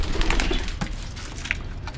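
A dove coos nearby, a few soft low calls over a light background hum, with some brief wing flutters among pet pigeons kept with their chicks.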